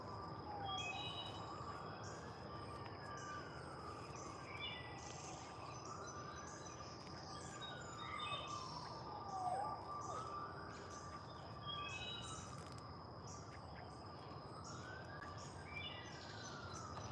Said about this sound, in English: there are some kind of police cars somewhere, or ambulance or something.